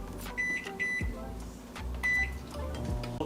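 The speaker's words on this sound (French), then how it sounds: "Je vais mettre dans le micro-ondes." A microwave oven melting butter in a bowl hums steadily in a kitchen, with a few short electronic beeps and the clunks of the door and buttons over the drone.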